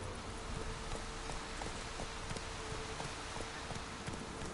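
Steady clip-clop of horse hooves in the video game The Witcher III at an even rhythm, moderately close, over a continuous hiss of background noise.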